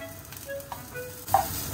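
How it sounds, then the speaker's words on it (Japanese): Enoki mushrooms slowly pan-fry in olive oil, giving a quiet, close sizzle with faint crackles and a brief louder burst near the end. "時々焼き色を確認しながら焦げないようにゆっくり焼いていきます。"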